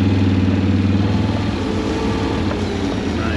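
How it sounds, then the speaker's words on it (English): A 2023 Can-Am Outlander XT850 ATV rolls downhill on a deep-woods trail with its engine braking, giving a steady low rumble near and loud for the whole stretch, with no talking. "This is all downhill. Yeah, okay, I can feel the engine braking a little bit nicer."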